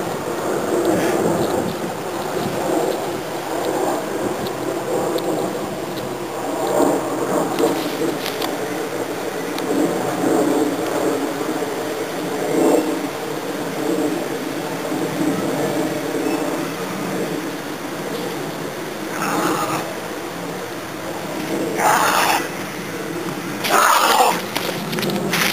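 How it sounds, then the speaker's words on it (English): Wind gusts steadily while a kite is flown outdoors, a continuous broadband rush that swells and dips, with a few sharper buffeting bursts near the end; distant bird coos may sit faintly underneath. "Wind."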